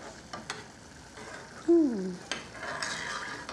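A spoon stirs briefly in a hot pan, a few soft scrapes over a faint sizzle, quiet and close with no talking.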